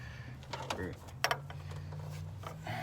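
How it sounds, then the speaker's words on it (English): A 5/8 wrench tightens a fuel return line fitting on a 7.3 IDI diesel, giving a few quiet metallic clicks and scrapes with brief talk nearby. "I think I'll tighten it and then crack it, back it off. And it's a 5/8 wrench."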